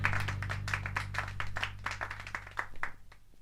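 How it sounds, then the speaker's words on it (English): A round of applause from a small audience, quick irregular hand claps going steadily for about three seconds at moderate volume before thinning out, with a low hum underneath. "A round of applause for Urishima, please."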